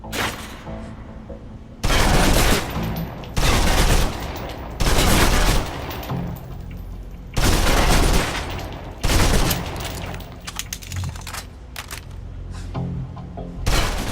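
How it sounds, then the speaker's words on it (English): Submachine gun in the video game Alpha Protocol emptying its magazine in a string of loud, close automatic bursts, about five heavy volleys separated by short pauses, with a low ambient hum between them. "Now, let's move on to the submachine gun. Now let's empty the clip."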